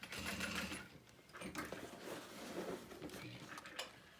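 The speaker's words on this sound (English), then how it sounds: "And sewing along the outer edge of the connector." A sewing machine stitches along the outer edge of a strap connector on a handbag, adding a crossbody strap. A close, busy run of stitching bursts with brief pauses, and a voice talks faintly over it.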